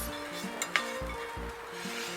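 Spoon scraping a cooked mixture into a pot of Turkish lung soup, with several soft rasping strokes and a faint sizzle in a quiet kitchen.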